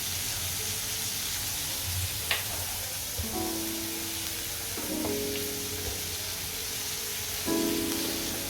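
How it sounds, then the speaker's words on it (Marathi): Onions frying in a pan for paneer bhurji as chopped tomatoes go in, a loud continuous sizzle with stirring scrapes and a brief burst as the tomatoes hit the hot oil. "कांदा जरा चांगला लाल होईपर्यंत परतायचा थोडासा परतलं तुम्ही मी टाकते हे टमॅटो टाकते बघा"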